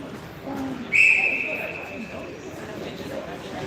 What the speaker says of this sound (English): there's the first whistle for the start of the third